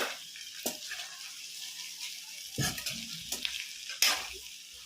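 Pepper paneer with coriander frying in a pan on a stove, with a steady sizzle and several scraping stirs of a spoon against the pan, the loudest near the middle and the end, and no talking.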